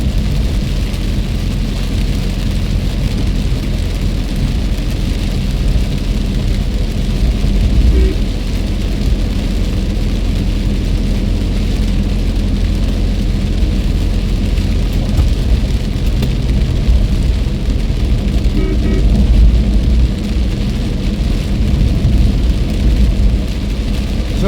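Heavy rain drums steadily around a car during a driving lesson, with low rolling thunder rumbling underneath; the downpour stays loud and unbroken throughout, and no one speaks.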